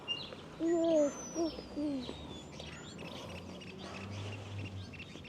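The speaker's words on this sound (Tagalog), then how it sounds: "Yan lang ang naririnig na, mga ibon-ibon." Birds calling in a quiet rural village in the Philippines, a few clear hooting, cooing notes near the start followed by faint scattered chirps over a low, still background.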